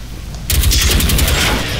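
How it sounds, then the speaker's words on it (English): Rapid gunfire in the video game Generation Zero bursts in suddenly after a quiet moment, a loud, dense stream of shots that continues steadily to the end. "we're back with the radioactive bullets again"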